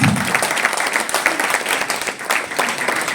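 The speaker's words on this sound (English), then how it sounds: "please give them a big round of applause" An audience at a women's handball league launch event gives sustained applause for dignitaries on stage, with steady, fairly loud crowd clapping throughout.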